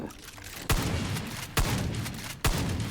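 In Far Cry 5, gunfire and explosions hit an enemy: three sharp, loud booming blasts spaced about a second apart over a dense, noisy game backdrop.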